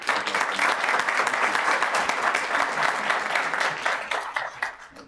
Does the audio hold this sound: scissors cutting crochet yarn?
no